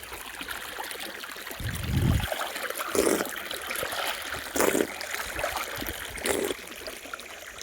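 Water from a new borewell flows out across a farm field as a soft, steady trickle and stream, close by, broken by a few louder splashing bursts and rustling movements, with no talking.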